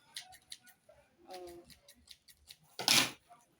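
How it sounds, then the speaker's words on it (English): Scissors snip through excess fabric while a shoulder bag is trimmed, giving a run of short, close, crisp cuts in an uneven rhythm. A voice speaks briefly in the middle, and a louder rustle comes near the end. "So make sure you trim off all the excess."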